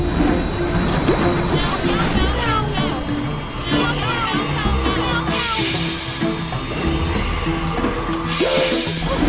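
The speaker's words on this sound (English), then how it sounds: "These train sounds get so annoying." Train noise with squealing wheels and rolling rumble fills the background throughout, loud and continuous, while people talk over it.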